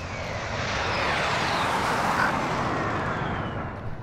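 A video game airplane engine drones loud and steady throughout, swelling slightly in the middle before easing off at the end, with no talk.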